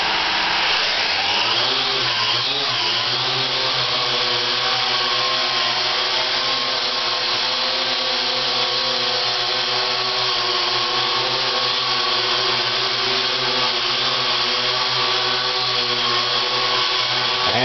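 A Syma X8C quadcopter drone holds a steady, loud hover indoors, its rotors producing a continuous whine with a steady pitch after a short spin-up at the start, with no talking over it.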